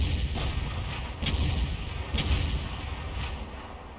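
In World of Tanks, a heavy tank gun from an Object 261 fires and shells land. Several deep booming reports come at about one-second intervals, loud and rumbling, over steady low battle noise.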